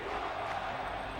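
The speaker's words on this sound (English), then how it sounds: "ignoring the chants from the crowd" Basketball crowd chanting during the fourth quarter of a Washington Wizards game, a steady, dense wash of many voices filling the arena with no single voice standing out.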